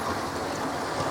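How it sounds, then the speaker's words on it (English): Two model railway trains run on the track, making a continuous close rumble with a steady rolling clatter and no breaks. "you can now finally see 2 trains running"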